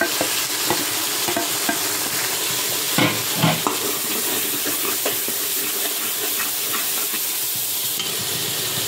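Ground coconut paste fries in a pan for coconut rice, a steady close sizzle with stirring scrapes and small bumps running throughout, with no voices.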